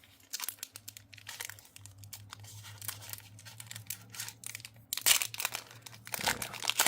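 Foil Pokémon card booster pack from an Elite Trainer Box being ripped and twisted open, a run of close crinkling and tearing bursts over a low steady hum, growing louder near the end.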